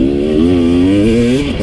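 A 2018 KTM 250 XC-W TPI fuel-injected two-stroke motorcycle engine revs loudly and close, holding a buzzy rising and falling drone with no talk.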